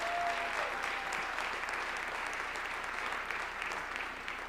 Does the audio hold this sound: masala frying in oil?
no